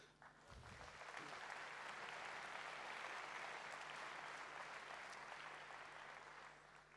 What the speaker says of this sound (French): et là, cette fois, vous pouvez vous applaudir.